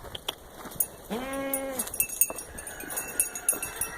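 A single drawn-out sheep bleat, close and clear, over a quiet outdoor background with faint bird chirps.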